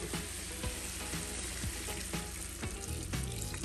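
Turkey meatballs sizzle loudly in a pan as gravy mix is added, a dense steady crackle with a few scraping stirs and bubbling surges, close and with no voices.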